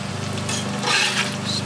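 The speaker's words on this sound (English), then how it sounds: "Stir everything up so the potatoes get a good coating of oil." Potatoes fry in oil on a grill with a steady hiss, while a utensil stirs them through the sizzle in soft scraping strokes, close up and continuous.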